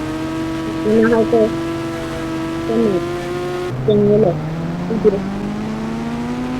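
Simulated motorbike engine in the India Bike Driving 3D video game, a steady harmonic drone that climbs in pitch as it revs, with short bursts of a voice talking over it.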